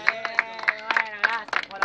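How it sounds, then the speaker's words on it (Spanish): Scattered hand claps ring out at a freestyle rap battle, sharp separate slaps at an uneven rhythm, with a voice talking underneath. "Muy bien, aplauso, ruido, quilombo."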